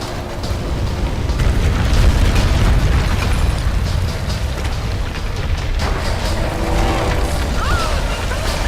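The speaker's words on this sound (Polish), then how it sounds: "Jest dużo wybuchów." Continuous loud rumbling booms and blasts from explosions in Tomb Raider, dense and chaotic, with a voice talking over the noise throughout.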